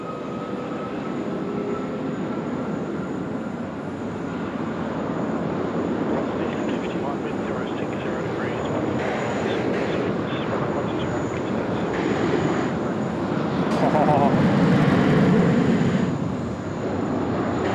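Jet engines of a China Southern airliner at Sydney Airport roar steadily as a broad, continuous rumble, swelling louder near the end, with people talking faintly underneath.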